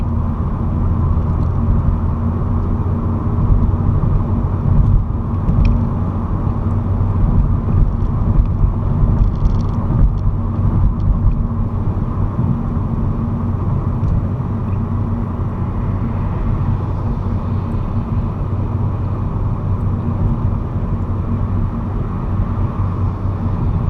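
A hybrid car climbs a hill on its combustion engine, a steady low drone with road and wind rumble that holds at an even level for the whole stretch, with no voices.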